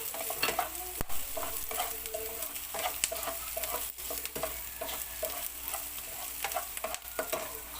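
Chopped ginger and potato chunks sauté in a frying pan for a Filipino beef steak tagalog, a soft continuous sizzle broken by scraping stirs and sharp utensil knocks against the pan.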